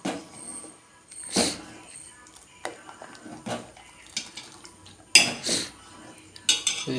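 A spoon scrapes and clinks against a pot while stirring milk payasa over a low flame, with irregular metallic taps and soft stirring close by, under occasional talk.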